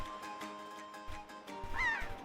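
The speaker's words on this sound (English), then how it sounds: "you are controlling a seagull" Seagull cries in The Legend of Zelda: The Wind Waker, a couple of squawking calls over a steady game music and ambience bed, moderately close with no voices.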